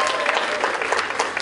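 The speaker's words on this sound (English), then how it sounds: "Please give yourself another round of applause." A crowd at a Pride gathering claps in a brief, dense burst of applause, close and fairly loud, with no talking over it.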